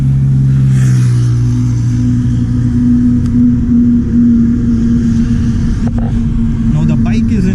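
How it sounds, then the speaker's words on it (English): A BS6 Interceptor 650 motorcycle engine idles with a deep, steady exhaust rumble and occasional revs, close by, with a voice talking over it. "first we'll be checking out the exhaust sound"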